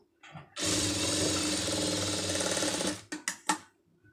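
A sewing machine stitches fabric in one steady, close burst of about two and a half seconds, then stops with a few short clicks and knocks.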